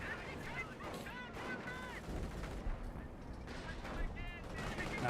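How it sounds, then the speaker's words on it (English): Artillery barrage in Company of Heroes, a World War II strategy game: a steady roar of booming explosions and crackling gunfire rolls on throughout, with shell blasts thudding one after another beneath the dense battle din. "Got a bit of artillery barrage."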